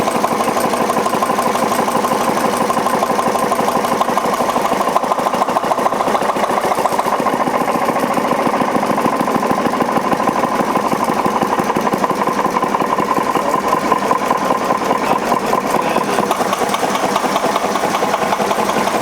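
Wittie engine running under half load on a test bench, a continuous even chugging drone with a fast regular pulse, loud and steady throughout with no talk.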